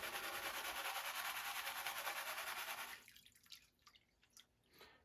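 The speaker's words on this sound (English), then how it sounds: "Here's the dirty water now." Dirty water drains while gold prospecting material runs down a Gold Cube sluice: a steady loud rush of water that stops abruptly, leaving scattered drips and trickles close by.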